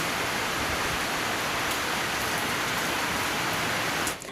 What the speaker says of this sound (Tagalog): At yung ulan mismo.